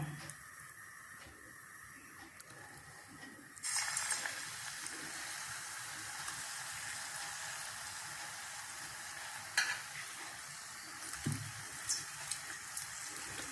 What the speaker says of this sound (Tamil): இப்போ இதை இதில் நினச்சி எண்ணெயில் போட்டுடலாம்.